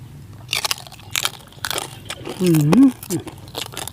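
Crispy roast pork skin from a whole roast pig is bitten and crunched in several sharp, close bursts, with a brief vocal sound partway through.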